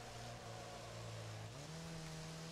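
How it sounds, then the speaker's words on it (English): A critically damaged car in the Wreckfest racing game, its engine droning with a steady, rough tone that shifts pitch partway through, continuous and fairly loud with no talk. "My car is making bad, bad sounds."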